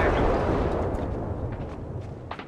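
Heavy gunfire in the battle royale shooter Apex Legends Mobile rumbles as a dense, loud wash of blasts, thinning into a few scattered sharper cracks toward the end.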